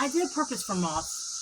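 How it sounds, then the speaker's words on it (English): A constant high, shrill drone of cicadas in woods fills the background while a person talks close up over it. "all that noise you hear in the background, that's the cicadas"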